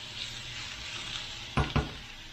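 Peppers frying in a hot pan with steak, a steady sizzle throughout, broken near the end by two short scraping knocks as the food is stirred.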